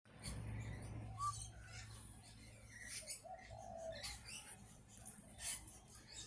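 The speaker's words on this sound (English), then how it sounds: "Magpie and a peewee." Magpie and peewee calling from a banksia tree, faint distant warbles and short whistled notes over soft outdoor background noise, with a little quiet talk.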